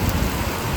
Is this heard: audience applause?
no